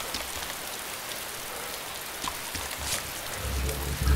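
Steady rainfall in the survival video game DayZ, a soft, even hiss of drops falling on surfaces with faint patters, a low rumble joining near the end; no one speaks over it.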